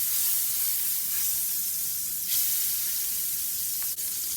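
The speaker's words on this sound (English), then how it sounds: "I have my griddle nice and hot. I'm going to add a little butter" Butter sizzles on a hot griddle with a steady, close, even hiss and light crackle that continue throughout with no talking.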